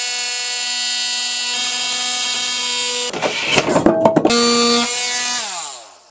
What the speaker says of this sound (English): I might just try and get a little multi-tool